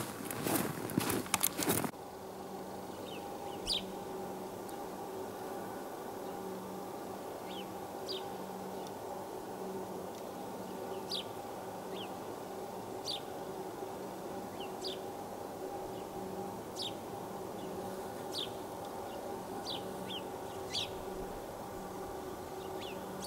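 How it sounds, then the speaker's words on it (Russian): Songbirds chirp in the countryside with faint, short, scattered calls over a quiet, steady outdoor hum, after a brief rustle at the start. "Тишина и птицы поют."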